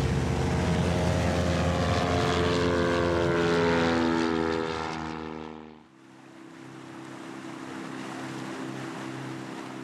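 A propeller airplane flies over the bay of Morlaix in Brittany, its steady engine drone loud and close for several seconds, then it passes and fades into a softer, distant hum over open water.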